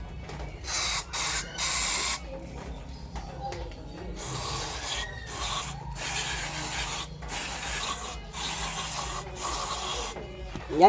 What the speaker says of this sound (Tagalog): spray natin yung mga butas na yan guys